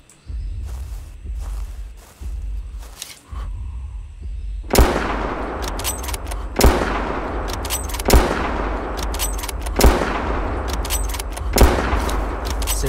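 Gunfire in the video game Prehistoric Hunt, aimed at a Spinosaurus: five loud, sharp shots spaced about every one and a half seconds, each ringing out with a long echoing tail over a steady low ambient rumble.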